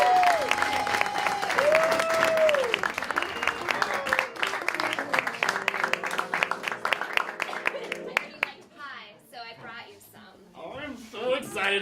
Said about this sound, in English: Ladies and gentlemen, can you give a big round of applause for Teenie Morris?